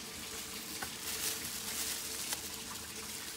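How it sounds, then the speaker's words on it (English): Hair dye poured into a container holding a synthetic wig gives a soft, continuous liquid sizzle and splash, fairly quiet, with a couple of brief clicks and no talking. "I'm just gonna pour all in here"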